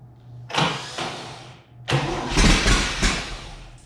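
An abandoned 1962 GMC farm truck with a vintage 305 V6 is cranked over in two attempts, the starter whirring before the engine catches and sputters roughly into uneven, loud running.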